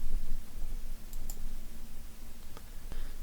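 Faint, sparse computer mouse clicks in statistics software tap a few times over a low steady background hum, with no talking.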